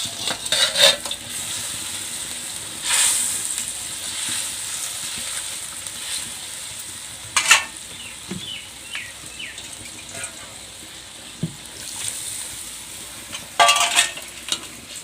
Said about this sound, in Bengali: আমি এখন ভেজে রাখা মাছগুলো দিয়ে দেব।